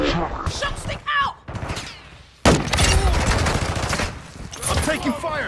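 Heavy automatic gunfire in Modern Warfare 2 rattles in loud, rapid bursts after a brief lull, with voices talking over parts of the firefight.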